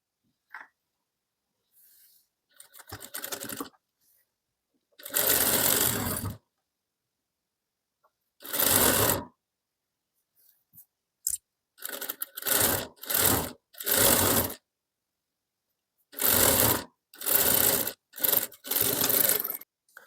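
A sewing machine runs in repeated bursts of a few seconds each, with short pauses between them, as it stitches a sharara bottom seam down from a hip-line notch. The whirring is close and steady, and nobody speaks.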